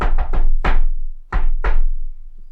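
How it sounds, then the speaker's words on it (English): A patterned knock on a door, three quick raps then a single heavier blow, a pause, and two more firm knocks, sharp, close and loud against a silent background. "We'll give you a special knock once we come back."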